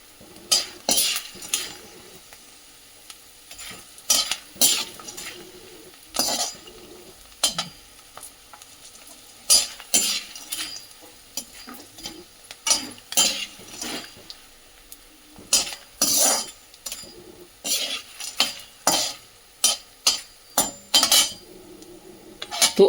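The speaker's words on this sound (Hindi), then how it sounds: "गोंद को भुनना बहुत ज़रूरी है, बहुत अच्छे से भुनना चाहिए।" Edible gum (gond) being roasted in a pan for til-gur laddoos, with a soft background sizzle broken by repeated sharp scraping and clinking strokes of a spoon against the metal, irregular bursts across the whole stretch.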